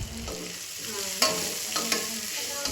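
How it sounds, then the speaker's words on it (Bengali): Chopped onions fry with ginger and garlic in a pan, giving a steady close sizzle. A utensil stirs and scrapes through them now and then, and nobody speaks. "পেঁয়াজটাও হালকা করে ভেজে নিতে হবে"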